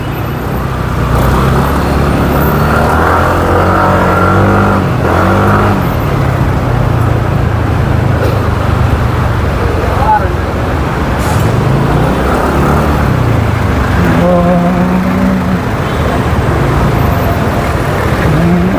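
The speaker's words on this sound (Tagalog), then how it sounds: "Ang dami ngayong sasakyan ah. Oh, oh may tricycle dito." Busy road traffic with cars, buses and tricycles passing close by, a steady loud engine rumble with rising and falling pass-bys and occasional brake hiss, continuous throughout.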